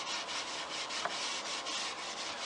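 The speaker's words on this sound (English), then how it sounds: "4/0 steel wool and rub it into the finish" Steady, soft scrubbing of fine 4/0 steel wool rubbed back and forth into the finish of a wooden furniture piece, a continuous close hiss with faint rhythmic strokes and no voices.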